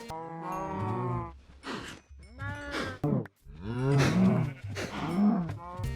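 Cows mooing in Minecraft Bedrock, a series of loud, drawn-out bovine moos one after another, close and clear with short gaps between calls.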